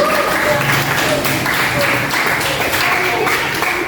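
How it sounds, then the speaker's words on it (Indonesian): Students in an Indonesian language class applaud a classmate, with a few seconds of brisk, fairly close clapping mixed with voices. "Beri tepuk tangan untuk Mbak Sahla."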